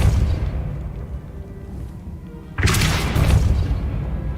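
Depulso force-push spell cast in Hogwarts Legacy, a sudden deep booming blast that bursts in partway through and rumbles on, loud and near after a quieter low hum.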